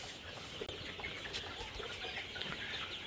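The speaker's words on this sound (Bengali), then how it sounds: "তো এই হলো আমাদের 33 দিন বয়সে কালার বার্ড মুরগির সেট।" Colour bird broiler chickens, 33 days old, in a poultry farm shed, a dense flock clucking and chirping steadily throughout at close range with no talk.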